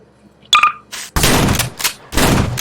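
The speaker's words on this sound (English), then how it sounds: "The most powerful shotgun besides the overpowered shotguns." Shotgun fire in the video game Garry's Mod, from a Nathan Industries weapon pack: loud, close blasts in quick succession, each with a noisy burst and short tail, following a brief electronic chirp.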